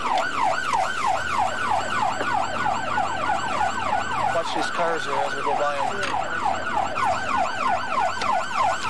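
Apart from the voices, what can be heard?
emergency vehicle siren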